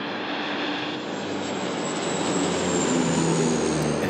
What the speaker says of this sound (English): if you heard or seen this plane.